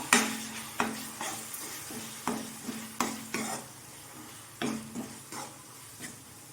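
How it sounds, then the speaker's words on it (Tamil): A spoon stirring beans masala gravy in a pan, spices and onions sizzling in oil beneath a series of scraping strokes against the metal, close and moderately loud, with no talking. "இப்போது இதெல்லாம் கிண்டி விட்டு ஒரு ரெண்டு நிமிஷம் இருக்கட்டும்"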